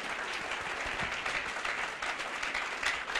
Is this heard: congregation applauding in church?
yes